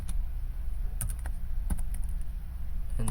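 Someone types code on a computer keyboard in bursts of sharp key clicks, spaced irregularly over a steady background hum.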